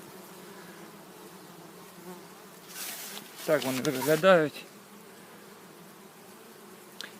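Bees at a hive fitted with a pollen trap give a faint, steady low buzz running throughout, and someone speaks briefly in the middle over the humming.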